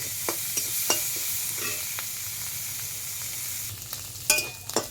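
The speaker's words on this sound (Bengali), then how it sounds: "এইবার সব কিছু সুন্দর করে ভাজা ভাজা করে নেব" Shrimp, chopped onion and chilli sizzle in a hot pan as they are stir-fried, with a steady frying hiss broken by sharp scrapes and clinks of the spatula.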